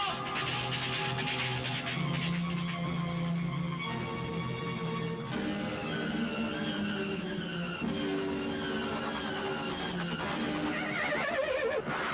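A horse neighs amid a dramatic Hindi action-film scene, the whinny rising over dense music and effects, with hoofbeats and other movie sound layered throughout.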